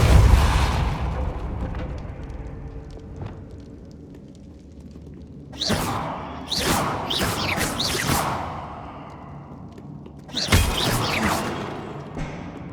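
Spells cast in Hogwarts Legacy, including Depulso, land as a series of sharp whooshing bursts and booming impacts, several in quick succession then one more after a pause, over low rumbling game ambience.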